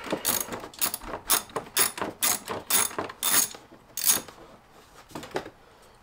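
A ratchet socket wrench loosening a bolt on a 2014 Kawasaki Brute Force 750 ATV, giving repeated bursts of close, crisp clicking in an uneven rhythm that fade toward the end.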